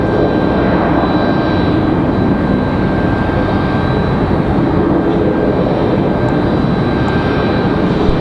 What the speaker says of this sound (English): Next arrival is going to be Endeavor 5232 coming in from LaGuardia. Another CRJ 900LR.